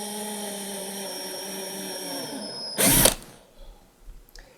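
A power drill spins steadily as it bores a 9/32 inch hole in a plastic flute, a sustained whine lasting nearly three seconds before a short burst of harsher cutting noise and a few faint knocks.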